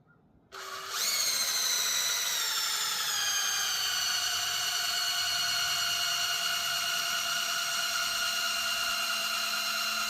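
A cordless drill drives the oil pump on a Magnum motor to prime it, giving a close, steady high-pitched whine that spins up quickly and then holds an even pitch throughout, with no talking.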